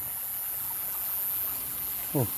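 Water flows steadily outdoors during an evening fish catch, a constant soft rushing wash with a brief voice near the end.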